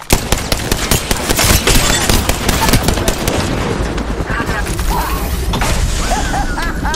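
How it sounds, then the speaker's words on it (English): Enemy gunfire rattles in a video game, dense, loud and continuous, with mechanical clatter and bursts of shots that keep the whole stretch busy. "The enemies are shooting at me."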